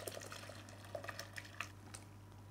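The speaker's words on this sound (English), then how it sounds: "I'll pour this really rich sauce straight into the bowl" Thick, rich braising sauce from coconut milk braised pork pours and drips into a bowl in soft, irregular splashes and plops over a low steady hum, quiet and close.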